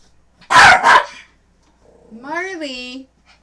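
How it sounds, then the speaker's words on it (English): Two loud, close barks from a pet dog named Marley ring out in a row, followed after a pause by a softer whining, rising-and-falling yelp, with no talk over them. "Silly dog."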